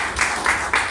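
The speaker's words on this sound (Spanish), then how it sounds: "Dale un aplauso al Señor." Church congregation clapping in praise during a Spanish-language worship service, a short burst of broad applause that swells in waves across the second.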